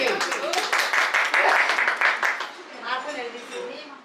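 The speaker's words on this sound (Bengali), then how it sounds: "সবাই হাততালি দেয়।" An audience claps together in a dense burst of applause that swells, then fades over a few seconds, with talking carrying on underneath as the clapping dies down.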